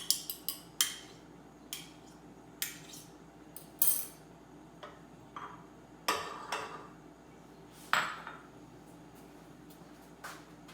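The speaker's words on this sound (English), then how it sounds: "Now I'm going to beat my whole egg and my 3 egg yolks" A whole egg and three egg yolks are beaten in a cup, with sharp, close clinks of a utensil against the side coming in irregular bursts about once a second, quiet between strikes.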